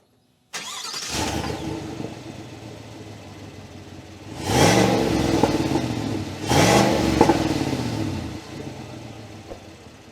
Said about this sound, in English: But I'm gonna do a startup real quick and show you what it sounds.